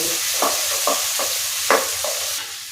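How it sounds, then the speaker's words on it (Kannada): Chopped tomatoes fry on low heat in a pan for moringa dal, a steady close sizzle broken by several scraping stirs of a spoon at irregular intervals. "ಟೊಮಟೊ ಹಾಕಿದ್ಮೇಲೆ ಉರಿ ಸಣ್ಣ ಮಾಡ್ಕೋಬೇಕು. ಟೊಮಟೊ ಸ್ವಲ್ಪ ಚೆನ್ನಾಗಿ ಬೇಯಬೇಕಿದೆ."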